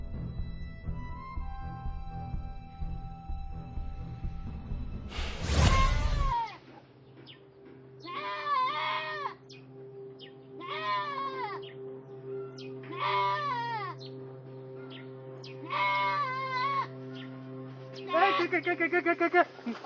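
A goat bleats several times in a row: short, wavering cries spaced a second or two apart, sounding close and fairly loud. Before them comes a burst of louder noise, with a low steady hum running underneath.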